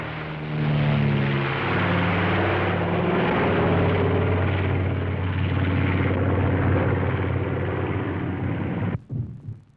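A multi-engine propeller airliner from an early transoceanic air transport fleet drones steadily overhead, its low engine hum and harmonic tones filling the air for about nine seconds before cutting off abruptly.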